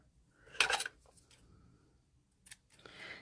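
Scissors snip through a folded paper loop in one short crisp cut, followed by light paper rustling and handling noises at close range.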